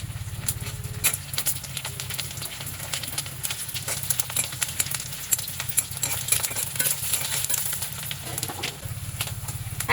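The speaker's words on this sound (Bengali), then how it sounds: "ডিমগুলো এপিট ওপিট করে ভেজে নিব লাল করে" Carp roe fries in oil in a pan and is flipped and stirred, a close, steady crackling sizzle with scraping movements throughout and no voices.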